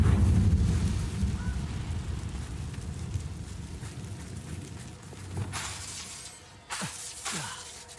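Explosive Bombarda and Confringo spells go off in Hogwarts Legacy: a heavy, rumbling blast fades out over several seconds, and sharp cracking bursts follow near the end.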